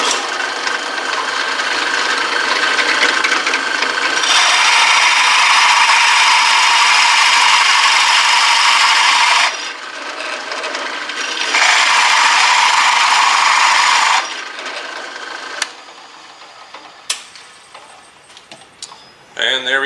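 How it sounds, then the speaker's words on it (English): A drill press bores a quarter-inch-deep recess into a wooden plate blank, a loud steady high whirring grind in two long bursts with a short pause between, then spinning down to quieter clicks and handling noises. "I'm going to drill about 1/4 inch down."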